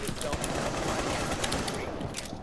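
Rapid automatic gunfire in the video game Rainbow Six rattles continuously and loudly for the whole moment, dense bursts packed close together with a faint voice underneath.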